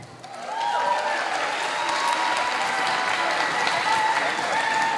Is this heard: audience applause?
yes